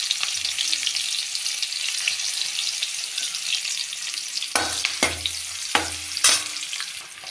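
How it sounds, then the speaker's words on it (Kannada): Chopped onions hit hot oil with garlic in a pan, giving a steady, fairly loud sizzle throughout, with several sharp stirring scrapes and clatters near the end. "ಕಟ್ ಮಾಡಿದ್ದ ಈರುಳ್ಳಿ ಹಾಕಬೇಕು"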